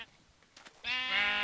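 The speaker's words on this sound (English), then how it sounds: "Now I don't have to kill the sheep to get all this nice," A single sheep in Minecraft lets out one clear, wavering bleat near the end, loud and close after a brief quiet stretch.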